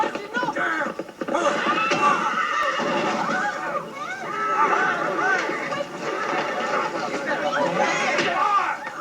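A horse whinnies repeatedly amid a struggle outdoors near a wagon, loud shrill neighs layered with hoof clatter while people shout and talk over the commotion.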